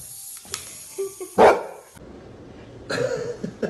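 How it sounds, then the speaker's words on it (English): A dog barks a few times in short, sharp bursts, close by, with quieter shuffling and snuffling between the barks. "Yo, Spunky, what are you doing, dog?"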